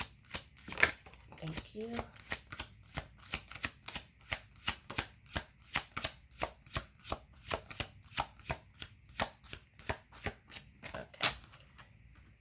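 A deck of tarot cards is shuffled over and over, giving close, evenly spaced riffling bursts for the whole stretch, with brief soft speech near the start and end.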